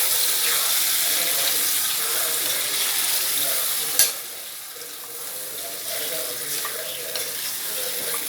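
Chicken pieces for chicken sukka fry in a hot pan with a steady, loud sizzle while a spoon stirs them. Scraping stir sounds come and go, and a sharp clack lands midway, close and unbroken throughout.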